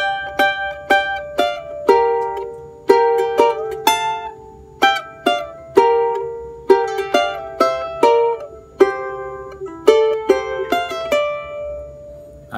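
Charango plucking a melodic phrase of a song, bright strummed and picked notes in a lively rhythm with ringing strings, close and clear with no voices.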